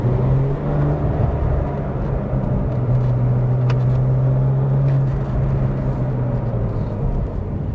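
A Porsche with a manual gearbox drives along, its engine giving a steady, close droning hum with a sustained low tone over constant road rumble and no break in the sound.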